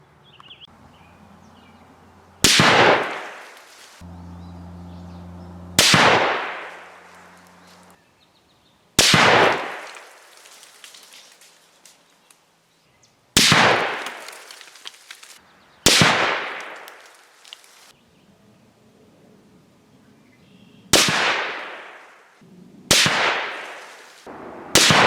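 A Savage 110 Tactical Camo rifle fires 130 grain ELD rounds, eight sharp, loud reports spaced a few seconds apart, each with a long decaying echo, with no talking between shots.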